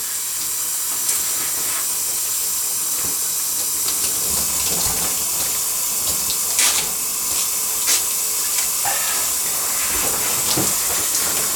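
Steady broadband hiss of shower water running, continuous and fairly loud throughout with faint scattered clicks and splashes, no voices.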